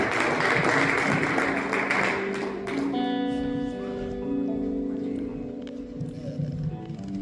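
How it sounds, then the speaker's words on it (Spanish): A church congregation applauds for a couple of seconds, a dense burst of clapping that fades as sustained keyboard or organ chords rise and carry on alone. "Denle un aplauso mientras pasa mi hermano"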